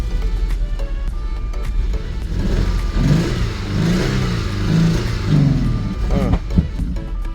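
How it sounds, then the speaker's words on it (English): A Jaguar S-Type that has sat unused, with a new battery and fresh fuel, is cranked to life and revved in uneven bursts, its engine close and loud with a low rumble throughout and a harsher surge near the middle. Voices talk over it. "I'm gonna throw some gas in it and see what fires up."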